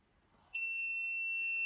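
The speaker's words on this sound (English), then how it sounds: "the buzzer is beeping and there is no movement for the door" A garage door opener's steady high-pitched electronic buzzer tone starts abruptly and sounds continuously, loud and close, over quiet background hum, while the door stays still.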